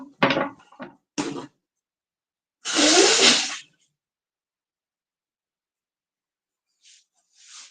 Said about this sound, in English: the reason why you sneeze is the black pepper attacks the nervous system